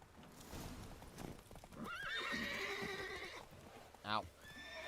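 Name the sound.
Geralt's horse Roach neighing and trotting, from Witcher 3 video game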